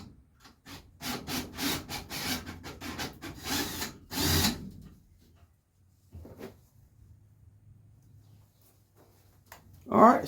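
A power drill drives short screws into wooden greenhouse trellis framing in a series of whirring bursts, followed by a quiet low hum and a brief final burst, with someone talking in between.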